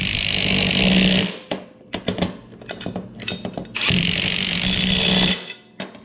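A power tool drives nuts down onto a rimfire spinner target assembly in two long whirring, ratcheting bursts, separated by short clinks and handling noises, close and loud.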